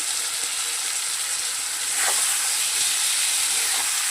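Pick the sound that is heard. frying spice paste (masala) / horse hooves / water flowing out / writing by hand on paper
frying spice paste (masala)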